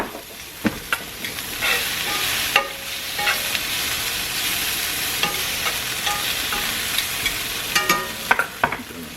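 Hot dogs fry in oil in a pan for Italian hot dogs New Jersey style, a steady dense sizzle with scattered sharp pops and crackles, close and continuous with no voices.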